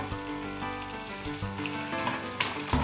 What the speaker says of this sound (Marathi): हे थोडंसं फ्राय करून घ्यायचं आहे आपल्याला तेलामध्ये